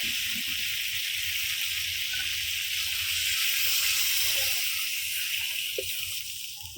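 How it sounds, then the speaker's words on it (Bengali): Water poured into a frying rohu fish and flat bean curry sets off a loud, continuous, broadband steam hiss that holds steady and fades slightly at the end. "এই তো জলটা দিয়ে দিলাম।"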